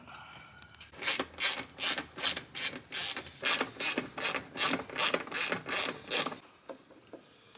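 A ratchet works bolts loose inside a Honda Acty's cabin near the center console and AC, giving about a dozen quick rasping strokes in a steady rhythm, close and fairly quiet, then stopping.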